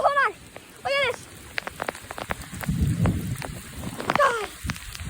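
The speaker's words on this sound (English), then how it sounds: "Oh man, it just started raining harder." Steady rain pours down during a nighttime rainstorm, a constant wash of falling water with a few short tonal chirps and a low rumble mixed in, fairly close and with no talk.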